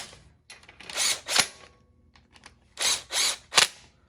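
An impact wrench drives bolts while fitting a rear frame stiffener and differential brace on a Honda 500. It makes loud, close, rattling bursts, two quick ones and then three more after a pause, with quiet gaps between.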